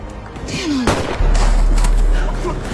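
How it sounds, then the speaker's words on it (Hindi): Gunfire in a movie scene, with a sharp shot cracking out followed by a heavy, booming burst that rumbles on loudly, and a brief voice-like tone just before. "लेकिन सामने वाला आदमी लगातार गोलियां चला रहा है"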